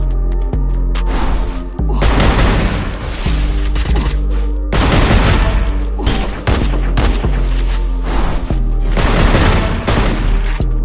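Rapid bursts of Trogon shotgun fire in a video game, loud and close, with repeated blasts and short pauses between volleys over a steady low rumble.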